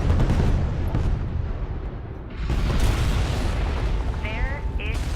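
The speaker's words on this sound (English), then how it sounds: "Pull back to a safe distance and initiate detonation." Detonating explosive charges rumble through a battle scene in the strategy game Deserts of Kharak, a sustained low boom that swells and rolls on for several seconds, with brief electronic beeps and warbling chirps near the end.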